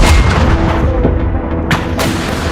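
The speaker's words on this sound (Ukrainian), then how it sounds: "Ми в оточенні, по нас їбашать танками!" Heavy tank fire and explosions in combat near Avdiivka, Ukraine, give loud booming blasts and sharp cracks, several in quick succession, close and harsh.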